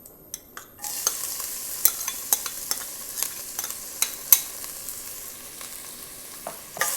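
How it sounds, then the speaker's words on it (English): Onion goes into a pot with bay leaves for Malvani chicken curry, sizzling suddenly and then frying steadily, with regular sharp clicks and scrapes of a spoon stirring close by, no talking. "now I'm going to add some onion."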